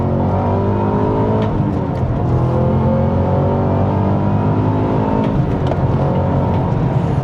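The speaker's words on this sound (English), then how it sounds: "If I turn that on, the gear indicator turns yellow and you get automatic rev matching." A Cadillac CT5-V Blackwing sedan's engine roars loudly and continuously from inside the car, rising and falling through gear changes with automatic rev matching, a dense, steady drone with no talking.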